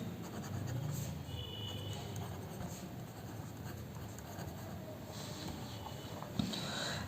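Pen scratching out an amount on paper or a board during an accounting lesson, a steady soft scribble that runs close by, quiet and without speech, with one sharp tap near the end.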